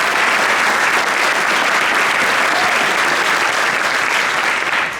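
An audience at a high school honors music festival gives a loud, dense round of applause, sustained evenly throughout with no voices standing out.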